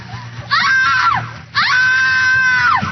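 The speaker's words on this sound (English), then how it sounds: "Best Halloween woman scream." A woman lets out two long, piercing Halloween screams, loud and close. The first is shorter and the second is held longer, each with a sharp onset and a falling tail.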